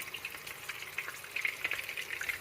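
Pork broth bubbles and sizzles in a wide frying pan as its water boils off, a steady close hiss with brisk crackling pops and no voices.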